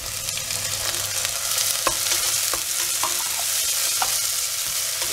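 Tomatoes sautéing in a pan for paneer pulav, a steady close sizzle running throughout with scattered scraping clicks of a spoon stirring, no voices.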